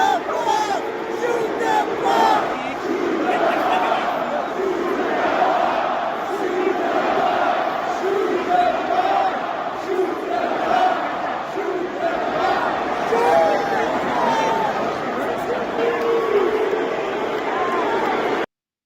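A Montreal Canadiens home hockey crowd of thousands chants "shoot the puck" in rhythmic, rolling waves. The chanting stays loud and continuous throughout, with an arena echo.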